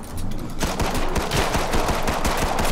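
Rapid pistol gunshots from the Killing Floor 2 video game, a dense continuous burst of sharp cracks that fills the whole stretch loudly with no talk over it.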